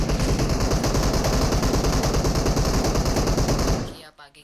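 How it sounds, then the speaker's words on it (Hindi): Rapid automatic gunfire in the PUBG Mobile shooter game rattles in a dense, steady burst for nearly four seconds, loud and close, then cuts off abruptly. "यहाँ से फायरिंग भी हुई"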